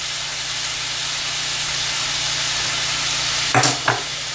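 Soya chunks in Manchurian sauce made with soy and tomato sauce sizzle in a pan over a slow flame, a steady loud hiss with two brief scraping stirs near the end.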